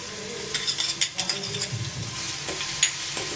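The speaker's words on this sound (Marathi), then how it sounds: "मिरची आणि लसणाचा ठेचा टाकूया." Crushed chili and garlic paste, added to hot oil with cumin and mustard seeds, sizzles and pops up close, with rapid bursts of spattering and stirring scrapes that settle into a steadier hiss.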